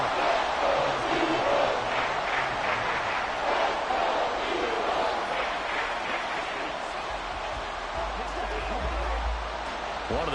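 Stadium crowd in a Madden 24 football game building up ahead of a big third down, a steady wash of cheering and roaring that carries on throughout, mixed with broadcast-style commentary.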